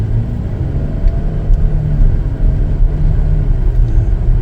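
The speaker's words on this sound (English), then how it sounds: "We're all set to take it for a test drive." 2019 Chevrolet Traverse AWD LT on a test drive, a steady low engine and road rumble heard from inside the cabin, loud and continuous with no talk.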